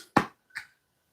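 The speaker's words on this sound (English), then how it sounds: "give yourself a clap" Two sharp hand claps, close and fairly loud, spaced under half a second apart, with silence after, during a live home workout session.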